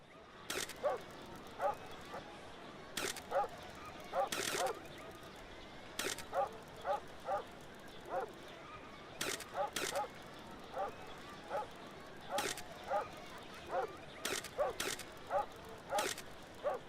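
A dog barks and yips repeatedly in short, irregular bursts over quiet room tone, some bursts doubled or clustered, a few softer whimpering yips between them, moderately close.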